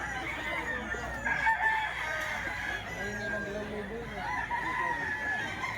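Hatch Gray and Duke Hulsy Lemon gamecock roosters crowing and clucking on a farm, moderately near, with people talking underneath throughout.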